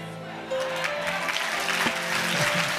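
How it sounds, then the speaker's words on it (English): A church congregation claps in a steady, dense patter that carries throughout, with voices calling out over the clapping. "as you are clapping"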